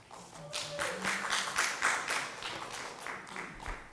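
An audience clapping at a school board meeting, a short scattered round of applause of moderate loudness that rises and then thins out, with no talk over it.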